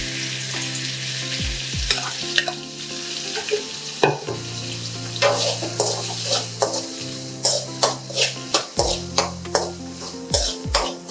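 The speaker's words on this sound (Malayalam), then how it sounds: "നമുക്ക് സോസേജ് ഒന്നിനി നമുക്കൊന്ന് വഴറ്റിയെടുക്കാം" Chicken sausage stir-fried in a restaurant-style frying pan, with steady close sizzling and repeated scraping and clinking strokes of a spatula against the pan.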